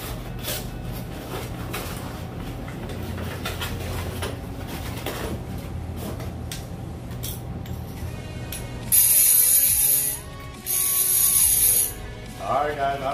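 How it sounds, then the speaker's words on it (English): An Avet SX Raptor fishing reel's clicker ratchets in loud bursts of rapid, high clicking over a steady low hum, with two long runs of drag clicks near the end. "I don't care how many times I hear the clicker go off"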